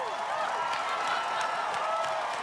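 Spectators at an Australian Ninja Warrior course cheer and clap for a competitor, a continuous wash of applause and crowd noise with occasional sharp whoops, moderately distant and even in level.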